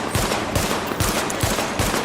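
Sidearm gunfire at highlighted targets during a weapon test in The Division on Xbox One, five evenly spaced loud single shots about every half second, alone with no talking.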